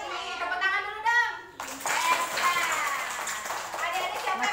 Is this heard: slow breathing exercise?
no